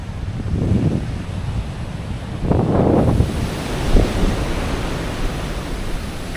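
Sea waves wash onto a sandy beach at Dublagadi on a fresh morning, with rolling surges of surf rising and fading over steady wind rush on the microphone.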